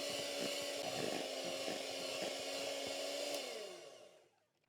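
Handheld electric mixer whisking cream for a strawberry tiramisu, a steady close whirring drone with slight wobbles in pitch that winds down and stops near the end.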